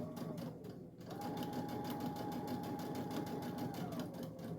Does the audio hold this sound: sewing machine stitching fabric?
yes